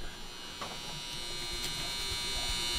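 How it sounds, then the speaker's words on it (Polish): Ugly yellow room lights give off a steady electrical buzz and hum in a small rented room in a Los Angeles house, constant and fairly quiet throughout. "Oraz te brzydkie, żółte, bzyczące światła."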